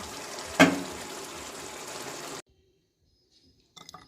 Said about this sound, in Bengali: আলুর তরকারিটা আমি ঢেলে দিচ্ছি।